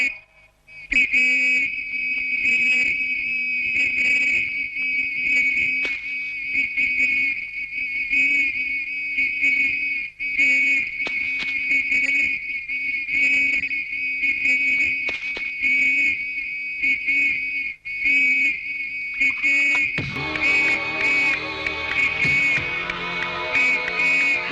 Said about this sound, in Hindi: सीटी क्यों बजा रही है?